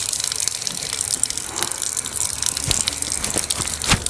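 Water pours and splashes over hands during wudu ablution, a loud steady gush like a running tap over a basin, close and continuous with no talk.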